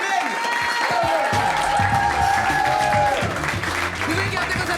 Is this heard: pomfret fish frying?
no